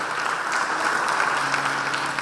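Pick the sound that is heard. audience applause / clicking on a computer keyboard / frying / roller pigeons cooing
audience applause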